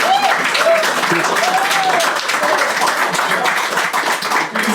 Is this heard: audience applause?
yes